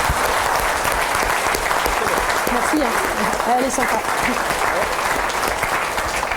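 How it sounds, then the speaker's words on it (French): Loud, steady audience applause during a New Year's greetings ceremony honouring a medal recipient in Pleumeleuc, with a voice speaking briefly over the clapping. "Voilà, on peut l'applaudir."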